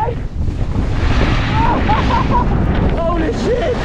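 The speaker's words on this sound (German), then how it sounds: "es windet recht" Wind in a snowpark buffets a nearby microphone with a constant loud rush, and faint voice-like tones rise and fall through the middle and end.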